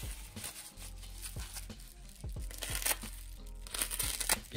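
Thin plastic crinkles and crackles close up in irregular bursts, with soft scrunching and rustling handled at close range and no talking.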